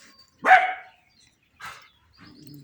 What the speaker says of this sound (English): Sorry there, dog.